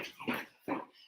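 A puppy whimpers twice in quick succession, two short high whines close by, with a quiet room around them and no talking.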